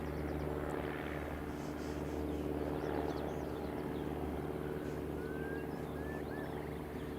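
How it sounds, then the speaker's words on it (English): An Airbus A340-600 jet at Teesside airport gives a steady, broad roar at moderate distance, swelling slightly partway through under faint background noise. "I imagine this A340 takeoff is going to be very quick"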